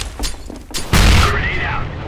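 A flashbang grenade detonating in Counter-Strike: Global Offensive: a sharp, loud bang after a few small clicks, followed by a lingering high ringing tone that fades out.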